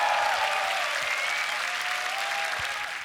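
A large crowd applauds after the tag team finals of the Grand Beatbox Battle 2023 World League, a steady wash of clapping that holds at a moderate level for about three seconds and fades slightly at the end.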